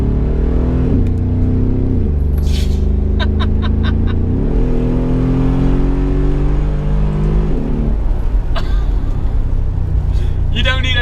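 A deep Brabus G700 engine rumbles steadily and swells as it revs up several times, with a few faint clicks on top.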